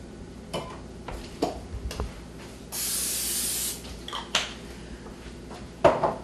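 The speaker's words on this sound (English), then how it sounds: "I'm going to spray a dish with cooking spray." A steady hiss of aerosol cooking spray onto a dish lasting about a second, with light clicks and clinks of dishes before and after.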